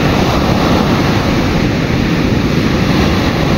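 Powerful ocean waves produce a loud, unbroken wash of surf, a dense roar with no separate breaks in this short stretch and no voices.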